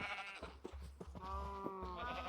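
A sheep in the modded game Minecraft gives a drawn-out wavering bleat, clear and close, with no talk over it.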